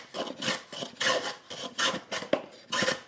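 A number 4 hand plane rasps along wooden edges to take off the arrises, with repeated short strokes in a steady back-and-forth rhythm, close and fairly loud.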